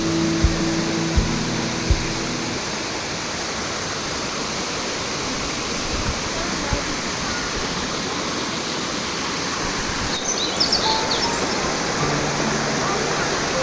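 Bishnudwar waterfall in Shivapuri, a steady broadband roar of falling water heard up close and continuous, with brief speech and a few knocks near the start.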